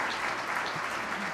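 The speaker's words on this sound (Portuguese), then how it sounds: "eu queria uma salva de palmas para a professora Blaine" Steady audience applause for a teacher at an Amazon volunteer centre event, a brief, even wash of many hands clapping without pause.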